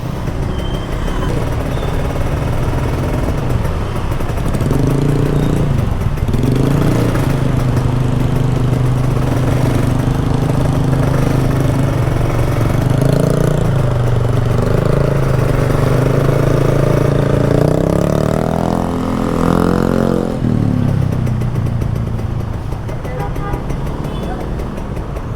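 An old red Kawasaki Ninja RR 150 motorcycle idles steadily up close, its engine note climbing as the throttle is blipped toward the end, then settling back down.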